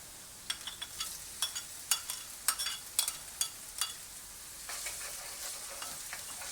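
Tomatoes added to onions fried light brown in a pan give a soft, steady sizzle with a string of sharp crackles and pops, some sounding like stirring, fairly quiet and close, with no voices.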